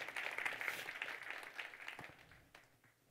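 A conference audience gives a short burst of applause, dense clapping that is fairly faint and steady at first and then thins to a few scattered claps.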